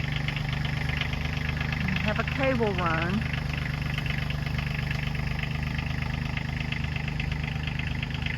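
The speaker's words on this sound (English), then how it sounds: "Bill's on the tractor." A tractor engine idles steadily at close range on a rural property, a continuous low mechanical drone throughout, with someone briefly talking over it.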